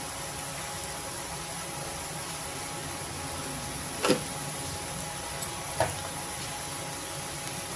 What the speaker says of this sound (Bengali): কড়াই একটুখানি সর্ষের তেল দিলাম আর বেগুনগুলো দিয়ে দিয়েছি। এগুলো এবার ভেজে নেব।